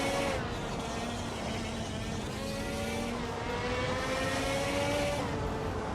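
A 1996 Vauxhall Vectra's engine drones steadily in a racing video game, holding a sustained mid-pitched tone that climbs slowly as the car accelerates, with other engine noise beneath it.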